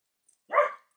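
A single short, muffled dog bark, fairly close, with silence before and after.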